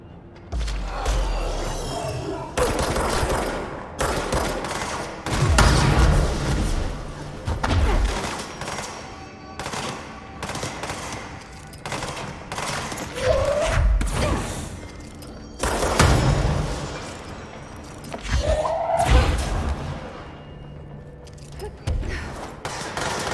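Bursts of gunfire aimed at the player in the video game Control, with fusillades and single shots coming in uneven clusters amid clattering action, loud and up close, with light talk in places.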